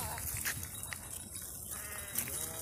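A goat bleats several times in quick wavering calls at close range, over a noisy rural background with other livestock stirring.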